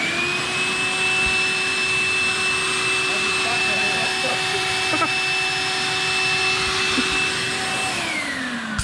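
A shop vacuum running suction with a steady loud whine and droning hum, the pitch dropping near the end as it winds down.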